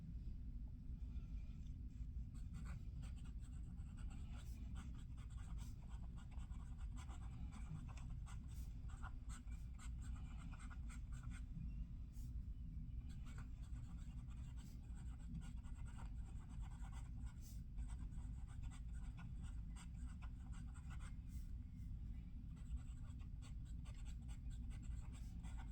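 A Visconti Rembrandt fountain pen in yellow writes quickly on paper, producing faint, repeated scratchy strokes in an irregular rhythm over a low background rumble, with no talking.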